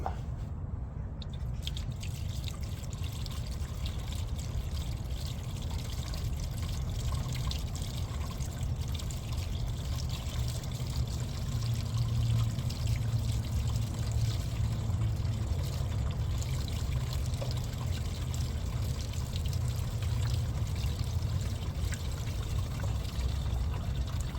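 Fluid pours from a jug into a JCB backhoe during an oil cooler replacement, a steady close gurgling pour and trickle that runs without pause, with no talk over it.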